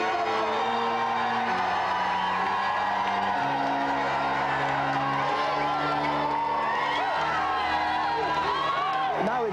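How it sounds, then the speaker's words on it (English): A TV studio audience cheers and whoops with raised voices over a steady musical backing, lively and sustained throughout. "let's have a round of applause for both our guests today, Vinnie Jones."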